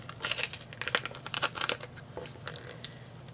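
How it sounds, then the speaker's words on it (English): Vinyl stencil being peeled off a Halloween acrylic pour painting, heard as a close, crackling, crinkly tearing in several quick bursts that fade to softer peeling toward the end. "Peel it off."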